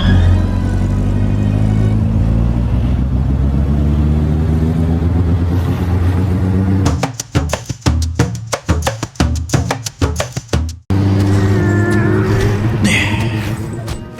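Car engine hums steadily while driving through the Lonelands toward Evendim in the video game Lord of the Rings Online, loud and continuous, then cut by a stretch of rapid clicking bursts before the steady drone returns.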